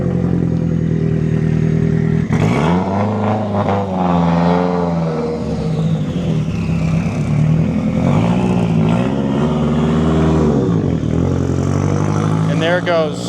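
A heavily modified car at a VW, Audi and Porsche enthusiast meet revs hard and pulls away, its engine note rising and falling loudly up close while people talk nearby throughout.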